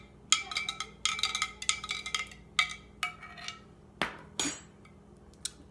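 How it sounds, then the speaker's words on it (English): A spoon clinks against a container while stirring salt water, a series of bright metallic taps coming in quick bursts, close and fairly quiet, with no talk. "And then I'm just gonna stir it."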